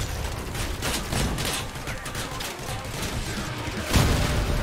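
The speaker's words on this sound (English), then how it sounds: "Missiles." Missiles and gunfire roar through a battle in the vehicle combat video game Crossout, a dense continuous barrage of blasts and shots with a heavier boom near the end.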